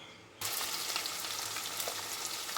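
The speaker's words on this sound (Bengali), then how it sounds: "খুব বেশি কড়া করে ভাজবো না, হালকা এপিট ওপিট করে ভেজে তুলে নেব।" Mourola fish drop into hot mustard oil in a kadai and set off a sudden loud, steady sizzle that stays dense and even to the end, preceded by a brief quiet moment.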